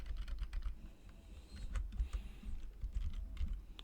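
Computer keyboard typing during an Arduino lesson, a steady run of quick, close key clicks with brief pauses and a low hum underneath, no voices.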